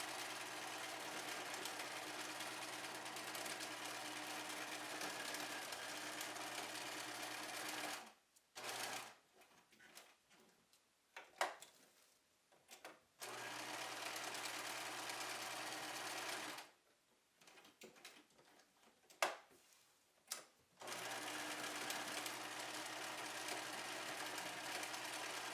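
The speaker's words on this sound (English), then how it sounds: "I'm going to sew up to this top seam and then angle over" Sewing machine stitching a seam on a fabric bag, long steady runs of fast mechanical whirring broken by several pauses with small clicks and handling noises, close and alone.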